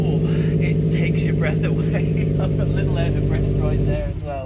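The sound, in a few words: Subaru WRX STI aftermarket quad exhaust, throaty engine sound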